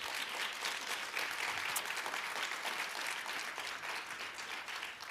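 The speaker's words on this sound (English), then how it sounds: "please give them a round of applause" Sustained applause from an audience at a community recognition ceremony honoring Historic Westside Legacy Park inductees, a steady dense patter of clapping that runs unbroken and fairly loud throughout.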